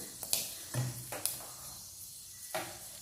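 Whole spices such as stone flower spluttering and crackling in hot oil in a pan for tomato rice, with several sharp pops and sizzling bursts over a quiet background.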